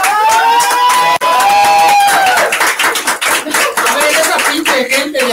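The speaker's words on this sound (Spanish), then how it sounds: "¡Un aplauso fuerte," Audience applause at an open mic comedy night, a dense wash of clapping from a crowd that runs steadily for several seconds, fairly loud and close, with a host's voice and cheers mixed in over it.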